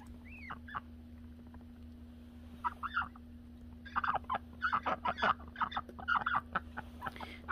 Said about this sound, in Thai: เนี่ยค่ะเขาก็เป็ดเขาจะอยู่กันเป็นเขาไปไหนเขาก็จะไปด้วยกันนะคะ